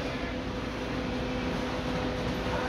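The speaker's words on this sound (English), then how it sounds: "How cool is this train?" A steady, dense rumble of a train passing nearby, continuous and even with a low mechanical hum throughout.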